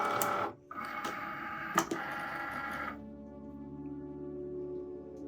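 An electric vinyl cutting machine works on an iron-on design for fabric, giving a close mechanical whir with a couple of sharp clicks, then settling to a faint steady hum after a few seconds.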